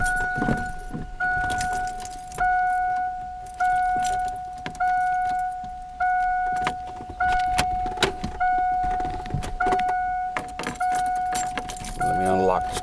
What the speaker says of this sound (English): when you turn it to start or run